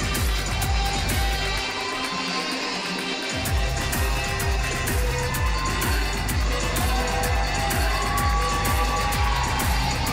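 Crowd at an LWF tag team title ladder wrestling match, a dense continuous roar of cheering and shouting filling the whole stretch with rhythmic thumps underneath.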